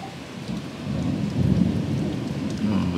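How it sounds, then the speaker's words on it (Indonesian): A thunderstorm with steady rain and rolling thunder, the low rumble swelling midway and holding, continuous and fairly close throughout with no voices. "Hujan petir."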